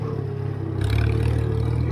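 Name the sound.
Farmall tractor engine revving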